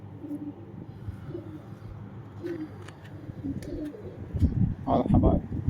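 Pigeons cooing in repeated low, soft phrases at close range, kept as strong flying birds, with a voice talking over the later part.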